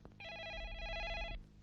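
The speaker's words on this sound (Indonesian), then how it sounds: "Max, ada telepon dari Amerika." A telephone rings once in a long electronic trill, clear and steady for about a second after a brief knock, in an indoor scene from a 1988 Indonesian film, with no talk.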